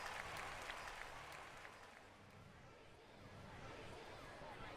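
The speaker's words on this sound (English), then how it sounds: "The audience clapped" An audience claps at a children's concert, with steady, dense applause and crowd murmur filling the whole stretch, fairly distant and even in loudness.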